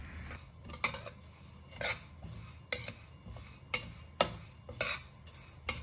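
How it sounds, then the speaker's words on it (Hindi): Spices, mustard seeds among them, stirred continuously in a pan over a low flame, giving irregular scraping clinks of a spoon against metal, close and moderately loud, with only a faint sizzle underneath and no talking. "लगातार चलाते हुए हल्की आंच पे ही इसे हमें सौटे करना है"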